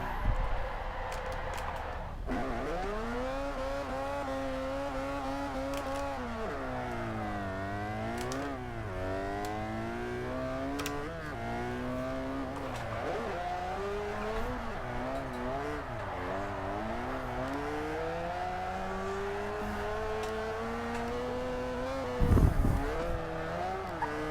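Car drifting around a track in Forza Motorsport 4 with a drift tune, engine revving steadily in fourth gear with swooping pitch changes and tire squeal throughout, loud and continuous, with a brief louder burst near the end.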